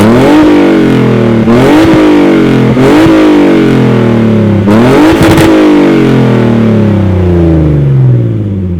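A BMW E46 engine is revved hard several times, each loud blip sweeping up and easing back down in a rising-falling drone, close and alone with no voices.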